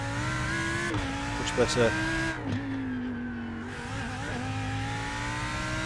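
Lamborghini Huracan GT3 race car on the Long Beach street circuit, engine holding a loud steady drone that rises in pitch as it accelerates, with a brief tire chirp and a shift dip, while someone speaks over it.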